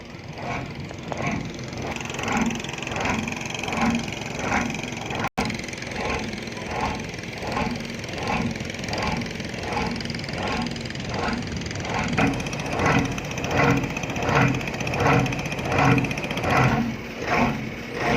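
At the deep-sea port at the Pattani river mouth on the Gulf of Thailand, a fishing boat's engine chugs in a steady rapid rhythm while towing another fishing boat out to sea, with regular pulsing knocks throughout.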